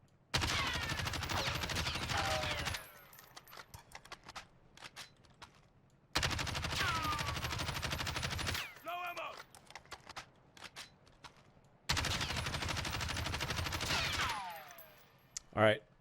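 Kilo 141 rifle fire in Warzone, three long sustained automatic bursts separated by gaps holding faint clicks and other game sounds, close and loud.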